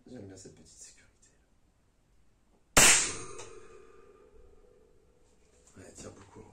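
A Langley Black Ops Soul 4.5 mm air pistol, rated at 13 joules, fires a single sharp, close crack that rings out and fades, with talking before and after the shot.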